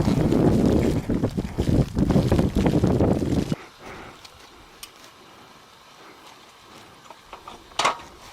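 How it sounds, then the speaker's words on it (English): Strong wind roars against the microphone on Mount Everest in near-whiteout conditions, loud gusty buffeting for the first few seconds, then dropping to a softer steady rush with a few faint knocks. "it's almost a whiteout condition, and the wind's in our face"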